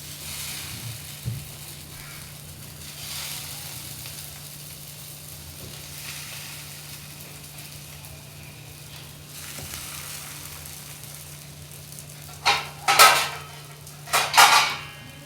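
Avocado toast frying in a pan, a low steady sizzle running throughout, then a few sharp clinks of a utensil on the pan near the end.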